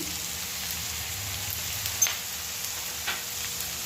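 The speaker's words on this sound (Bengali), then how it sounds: "ক্যাপসিকাম এবং পেঁয়াজটাকে আমি এইভাবে নেড়ে দিচ্ছি এবং মাঝখানে আরেকটু আমি সাদা তেল দিয়ে দিলাম।" Capsicum and onion frying in oil in a pan, stirred as more oil is added: a steady, close sizzle with a couple of soft scraping taps, no talking.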